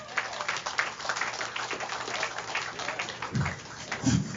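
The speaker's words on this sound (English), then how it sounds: "Let's give the Lord a round of applause for that." An audience claps and cheers at an outdoor Labor Day picnic fundraiser, a moderate, fairly distant round of applause that runs steadily for a few seconds.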